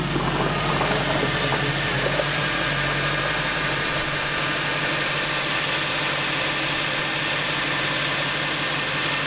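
High-mileage V8 car engine with primary and secondary decats removed, idling steadily and loudly close by with a dense rumbling drone that holds evenly throughout.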